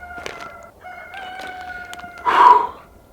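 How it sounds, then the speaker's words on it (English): A rooster crows once nearby, a loud rough call near the end, after softer bird calls and faint clucking outdoors. "That's a rooster."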